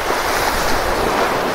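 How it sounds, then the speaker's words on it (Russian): Sea waves break against a rocky shore directly below seaside houses on the Spanish coast, a loud, steady, close wash of surf mixed with wind noise and no voices. "когда у тебя прям под дом бьют волны"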